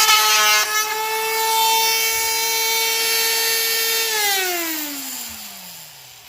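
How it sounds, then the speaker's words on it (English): A wood router fitted with an edge trimmer bit runs at a steady high-pitched whine while trimming a wood corner, then winds down with a falling pitch toward the end, loud and close with no talk. "Let's go ahead and set up the edge trimmer piece and see how it does."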